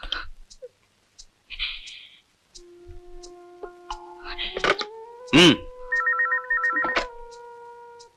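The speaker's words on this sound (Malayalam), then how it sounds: "ഇനി എനിക്ക് വേണ്ടി ഒരു നമ്പർ കൂടി നീ ഡയൽ ചെയ്യണം." After a number is dialed, keypad tones beep, then a telephone ring tone and chirping electronic signals follow in a close, intermittent sequence, with a voice briefly audible.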